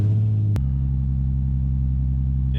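Nissan 350Z engine idling after start, a steady low rumble that drops and settles after a brief sharp change in tone, close and loud, no talking.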